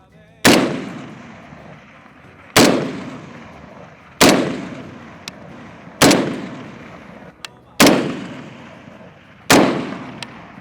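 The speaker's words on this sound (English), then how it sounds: "So I had no luck landing my shots with the M14k." Six sharp rifle shots from an M14k fired at a 300-yard target, spaced roughly two seconds apart, each a loud crack with a trailing echo across open ground.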